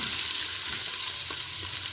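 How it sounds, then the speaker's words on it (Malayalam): Sliced onions sizzle steadily in hot oil inside a large pressure cooker while majboos is being made, a close, continuous frying hiss with faint stirring scrapes and no talk. "ഓയിൽ നല്ലപോലെ ചൂടായതിനു ശേഷം സവാള ഇട്ട് കൊടുത്തിട്ടുണ്ട്."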